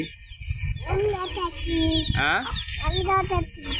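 Backyard hens cluck in short, close, rhythmic bursts, with a few rising squawks, while a child and an adult talk nearby.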